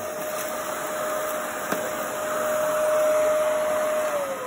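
An EyeVac touchless vacuum station runs with a steady, even whine and airy rush as swept crumbs are drawn in, holding a constant pitch before it begins to wind down at the end.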